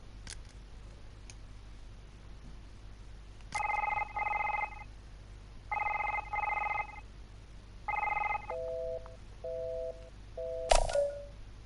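A telephone rings in the video game Doctor Who: The Lonely Assassins: three paired double rings, then a few shorter electronic beeps and a brief final burst, all alone against a quiet background hiss.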